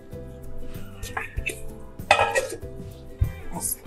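A cooking pot gets covered with its lid, giving a few clattering metal knocks and one brighter clink against a low kitchen hum, the dishware sounds close and moderately loud.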